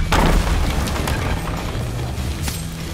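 A loud, booming blunderbuss shot with a heavy initial blast that rolls into a sustained low rumble and wash of noise, close and dominant throughout.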